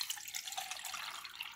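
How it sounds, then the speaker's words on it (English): Water is poured back into a cup in a steady, faint trickling splash that runs continuously and close by, with no one talking. "I'm going to pour it in"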